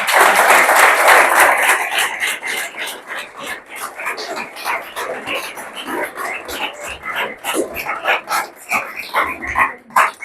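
A church congregation applauds during a Sunday service, loud dense clapping at first that thins into scattered, uneven claps over about ten seconds, with voices mixed in.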